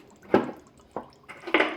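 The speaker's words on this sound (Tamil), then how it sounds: "இப்போ இதில் வந்து நம்ம தண்ணி ஆட் பண்ணிக்கலாங்க" Water poured into a bowl of soaking food in a home kitchen, a few short splashing and dripping bursts with quiet gaps between, close and moderately loud, with no talk.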